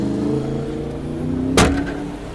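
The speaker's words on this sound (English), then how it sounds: "Just our luck. A bus is coming." A motor vehicle engine hums steadily close by, with a sharp bang or clunk near the end, as a bus approaches.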